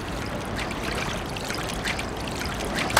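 A released fish splashing back into water beside a fishing boat, heard as a steady close trickling and pouring wash with a small splash at the very end.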